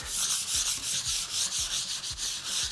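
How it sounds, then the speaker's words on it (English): MDF being sanded by hand with 220-grit sandpaper wrapped on a block, a steady run of rhythmic back-and-forth rasping strokes, close and fairly loud, with no talking. "take a little 220 sandpaper on block here."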